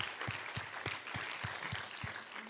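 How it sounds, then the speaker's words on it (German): Quiet applause for a child at a German-language talk, small audience clapping faintly with a few distinct, evenly spaced claps standing out over the soft patter. "Ein Applaus für Lukas."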